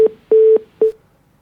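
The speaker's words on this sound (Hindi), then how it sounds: "तिवारी जी का फोन डिस्कनेक्ट होगा" A phone line drops: three loud, close electronic tones sound in a broken rhythm, a short pip, then a longer held tone, then another short one, with nothing between them.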